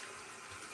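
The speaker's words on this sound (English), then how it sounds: "my faucet's a little loud" A loud bathroom faucet runs water in a steady, broadband rushing stream, continuous and fairly soft in level, with no voices over it.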